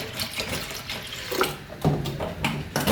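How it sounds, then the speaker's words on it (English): Water trickles into a mango and passion fruit drink in short pours, with soft splashes and liquid sounds over a few seconds. "I can add a little bit more water in here."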